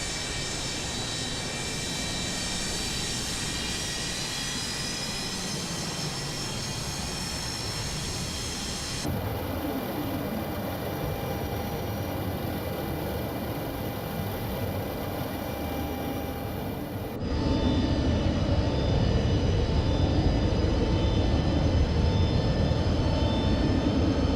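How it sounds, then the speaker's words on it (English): Steady mechanical drone of a Boeing 727's hydraulic system running during taxi in a flight simulator, loud and continuous with faint whining tones, shifting character twice as the hum grows slightly louder near the end. "That sounds like a new hydraulic sound. Is that a new hydraulic sound running?"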